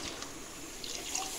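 Water is poured steadily into a pot of measured rice while cooking mutton korma pulao, making a continuous close splashing and trickling rush with no talk.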